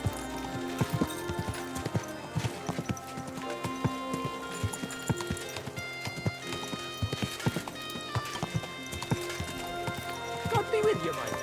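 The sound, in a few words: horse hooves clip-clopping in a video game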